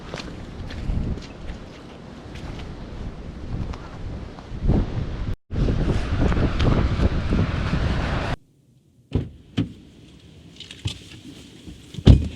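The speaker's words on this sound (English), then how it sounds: "It's just the being battered by the wind." Strong wind on the South West Coast Path in foul weather buffets the microphone in loud, sustained roaring gusts, cuts out abruptly twice, then gives way to quieter bumps and rustles.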